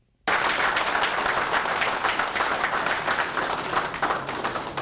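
After a brief silence, loud applause from a large audience erupts and continues steadily as a dense wash of clapping.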